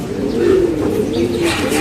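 Low, throaty cooing from pigeons, close and fairly loud, in a couple of soft rolling phrases.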